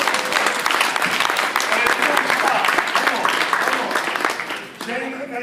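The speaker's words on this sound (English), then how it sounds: "Give him a round of applause" Audience at a DJ conference panel breaking into applause: dense, loud clapping from a crowd spread across the room, sustained for several seconds before fading near the end as a voice comes back in.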